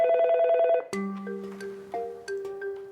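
Telephone at a Spanish helpline ringing, an electronic tone that sounds first, followed by a few sharper melodic ringtone pulses in a short repeating rhythm, clear and close.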